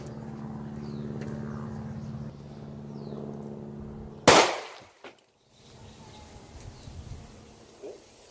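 A single loud gunshot from a Glock 27 firing a Winchester White Box 180 grain .40 round into soda jugs at 10 feet, one sharp outdoor crack midway followed by a short echo and quiet.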